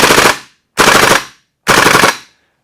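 An Umarex VFC HK MP5A3 gas blowback airsoft gun fires three loud, close full-auto bursts, each about half a second long and cut apart by short silences.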